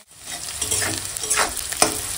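Chopped onions hitting oil left over from frying a rohu fish head, a bright continuous sizzle with a few stirring scrapes, close and without talk.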